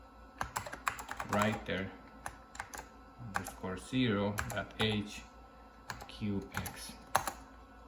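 Quick bursts of computer keyboard typing as a filename is entered to transfer to an old vintage Apple Mac, irregular clusters of close key clicks mixed with someone speaking over them.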